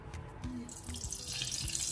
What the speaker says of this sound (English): I'm pouring my used oil in